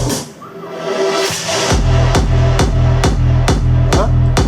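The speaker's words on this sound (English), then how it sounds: "a kick, a big kick with the bass on the kick" An EDM-style kick drum with bass placed on each hit, thumping out a steady four-on-the-floor pulse, loud and up close, with no bass sustaining between the kicks after an opening stretch of quieter musical texture.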